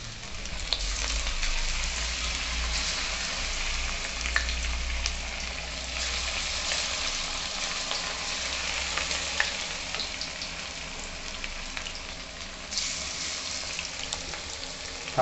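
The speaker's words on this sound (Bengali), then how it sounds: "এই রকম সাইজের লেগ পিস, এটাকে গরম তেলেতে দিয়ে দেব" Chicken leg pieces fry in hot oil for a chicken pakoda, a steady, dense sizzle with bubbling crackle running throughout, close and fairly loud, with no talking.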